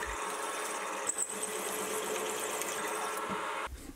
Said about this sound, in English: I'll then spot it and drill it through with an 11mm drill.